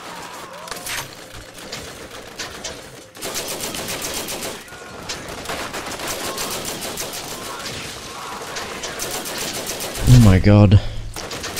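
Dense, sustained rapid gunfire in the video game Borderlands rattles on through most of the stretch, and a voice exclaims briefly near the end.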